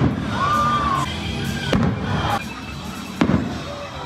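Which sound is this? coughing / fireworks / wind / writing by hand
fireworks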